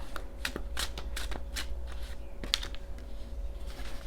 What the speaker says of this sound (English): get one more shuffle here